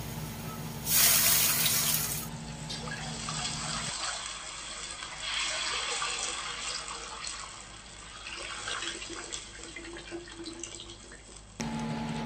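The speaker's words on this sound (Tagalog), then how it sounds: "Sunod natin ilagay dyan yung tubig at antayin natin kumulo" Water is poured into a cooking pot for Filipino-style pancit bihon, making a steady close gush and splash. The flow shifts in tone as the pot fills, and no one talks.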